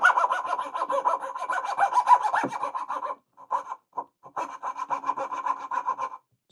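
A Katz-Moses KM-19 coping saw rasps through wood while cutting a dovetail, giving steady close back-and-forth strokes that pause briefly around the middle, resume in short bursts, then stop.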